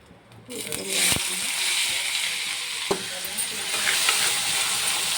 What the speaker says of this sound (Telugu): ఆయిల్ వేడైన తర్వాత ఆనియన్స్ వేద్దాం.